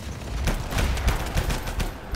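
Rapid rifle fire in the video game Anthem, a dense burst of sharp repeated shots with explosive crackle, loud and continuous for about two seconds.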